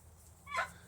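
A hen on a small farm gives a single short, faint cluck over quiet background noise.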